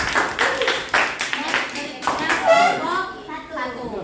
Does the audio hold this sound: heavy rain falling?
no